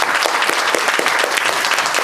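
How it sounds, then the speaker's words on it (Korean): An audience at a Korean cinema's post-screening talk for the film Black Money breaks into loud, continuous applause, with rapid overlapping claps filling the room at even strength. "박수 한번 부탁드리겠습니다"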